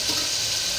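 Mutton sizzles steadily in a hot pan while being stirred, a brief, even hiss of frying with no voices over it.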